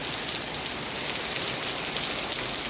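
Steady rain pours down on a surface, a dense, even hiss of drops with no pauses or voices.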